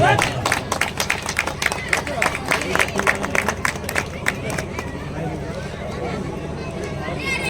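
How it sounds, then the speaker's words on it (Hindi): Crowd at a Sant Ravidas birthday celebration in Saidabad claps in a fast, rhythmic patter over a background of murmuring voices, the clapping strongest early and loosening into chatter later. "ताली मारिए आप लोग"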